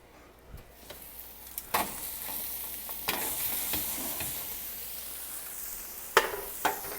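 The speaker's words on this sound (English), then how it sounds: "I'm just going to give these another stir." Broccoli frying in a pan while a spatula stirs it, giving a steady soft sizzle broken by several sharp scraping clatters of spatula on metal, close up, with no talking.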